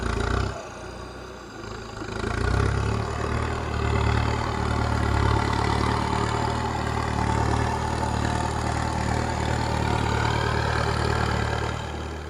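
Kubota M6240 tractor engine rumbles at idle nearby, a deep steady drone that swells louder after a couple of seconds and holds for the rest of the twelve seconds, with no voices.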